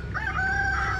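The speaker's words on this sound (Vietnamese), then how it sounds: "Này, gà nó đang chạy." A chicken by a churchyard fence in rural Vietnam gives a short, drawn-out, tonal call, close and loud over a low background rumble.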